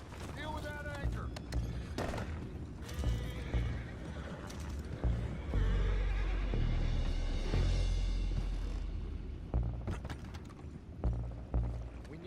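Horses neigh and whinny amid clip-clopping hooves in a Red Dead Redemption 2 game scene, with several loud whinnies over steady hoofbeats, rumbling low effects and shouting voices.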